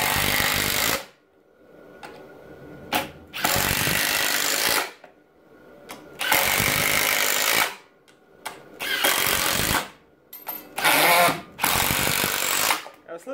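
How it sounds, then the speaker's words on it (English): Makita impact driver sinking a series of screws, six loud bursts of rapid hammering whir separated by short pauses, close up and alone. "how fast the Makita can sink in 6 of these screws."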